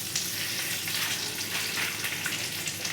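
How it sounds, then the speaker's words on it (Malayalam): Mustard seeds hit hot oil in a clay pot on the stove for a fish curry, setting off a loud, steady sizzle with sharp crackles, close and without talk. "അമ്മ കടുകിട്ട്"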